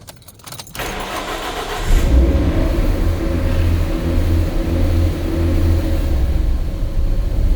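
A twin-turbo Mustang engine starting and then running with a loud, deep rumble close by, rising into sustained revving that holds for several seconds, with no talking.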